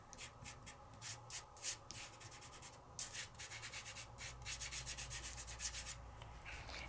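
Metallic flakes being lightly burnished over glued stencil areas, a close series of soft, rhythmic rubbing strokes in quick bursts with brief pauses between them, and no talking.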